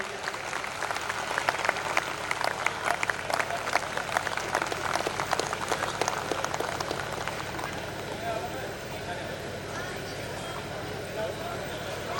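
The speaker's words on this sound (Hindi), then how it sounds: "एक बार जोरदार ताली बजाइए सर के लिए।" Audience applause at a school event, a dense patter of many hands clapping, louder and more vigorous in the first half, then thinning and fading toward the end, with murmuring voices mixed in.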